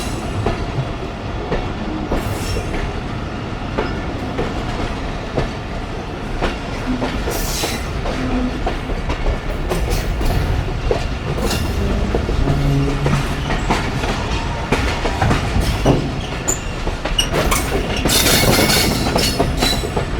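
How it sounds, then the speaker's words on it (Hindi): Millat Express passenger train rolls steadily over the rails on its way into a large station, a loud, continuous rumble broken by clattering bursts and brief wheel squeals as it crosses onto another track. "हमारे ट्रेन ने दोबारा ट्रैक चेंज कर लिया है।"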